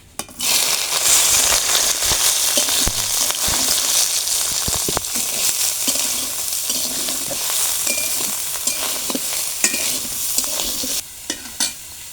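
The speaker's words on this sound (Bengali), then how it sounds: "এখন সয়াবিনটা ভালো করে ভেজে নিব" Soybean chunks frying in hot mustard oil in a kadai, with a steady sizzle under repeated scraping and stirring strokes of a spatula, close and moderately loud, ending in a few sharp clanks.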